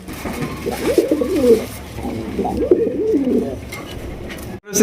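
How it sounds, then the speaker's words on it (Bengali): Large pigeons coo in low, rolling bursts, two clear phrases close by, with a soft background murmur and a brief dropout near the end. "একদম বড় সাইজের কবুতর"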